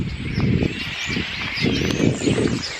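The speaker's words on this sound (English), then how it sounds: "look at all the bloody birds up there. I don't know if you can hear that." Birds chirp overhead in a busy, high twittering that runs throughout, partly masked by louder low wind or handling rumble nearby.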